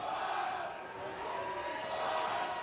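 A frenzied crowd of Seahawks supporters at a Super Bowl-night boxing card in Shelton, Washington roars steadily throughout, a dense, loud, continuous wall of cheering voices with no single speaker standing out.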